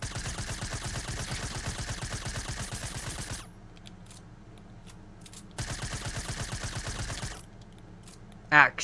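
Rapid automatic gunfire from a Fortnite-style shooter game comes in two dense bursts separated by a quieter pause, loud and close, with a sharp single shot at the very end.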